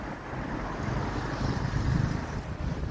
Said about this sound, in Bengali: একটু সমুদ্রের বাতাস এদিকে আসতেছে